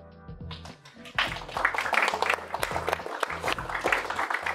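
Scattered clapping from a small group of programming-course students rises abruptly after a quiet tonal start, staying fairly close and uneven.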